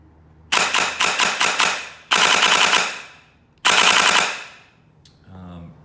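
Gel blaster fitted with a Frankentorque motor, DSG gear set and 32 TPA, fires loud rapid bursts: a stuttering volley of quick shots, then two sustained full-auto strings, each ending in a whirring wind-down.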